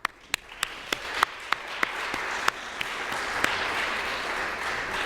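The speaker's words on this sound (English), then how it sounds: "Let's give our candidates a round of applause." A convention audience at a State FFA election session applauds its candidates. Several sharp, loud claps from nearby hands ring out over a swelling, sustained bed of crowd applause.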